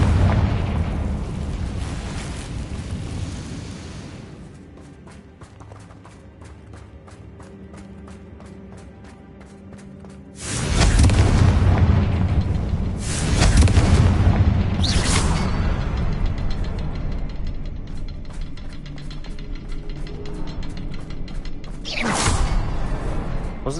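Fiery spell explosions in the Hogwarts Legacy video game, several loud booming blasts with whooshing bursts that break over quieter game ambience and music, one after another over the span.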